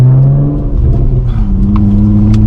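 A tuned 2008 Honda Accord 3.5L V6 with a muffler delete, run on 91+ octane along a backroad, drones loudly and steadily, its engine pitch climbing slightly and leveling off throughout.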